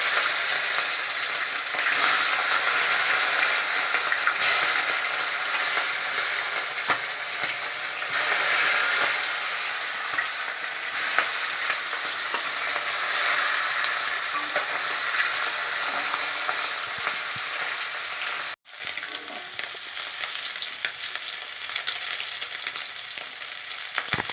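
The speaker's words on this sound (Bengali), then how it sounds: "তেল গরম হয়ে গেছে এই যে মাছগুলো দিয়ে দিচ্ছি" Pakal fish from a village wetland, cut into two pieces each, fry in hot oil with a loud, continuous, crackling sizzle close by that holds for over twenty seconds, with one brief break near the end.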